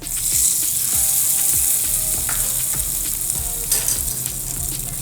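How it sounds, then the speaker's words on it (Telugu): Mustard seeds and cumin crackle and sizzle loudly in hot oil as the tempering is stirred and poured into ridge gourd peel chutney, a close, continuous frying hiss with scraping stirs, no voices. "ఆవాలు జీలకర్ర చిట్పట్లాడిన తర్వాత ఇప్పుడు స్టవ్ ఫ్లేమ్ని ఆఫ్ చేసుకుని ఈ పోపునంతటిని చట్నీలో"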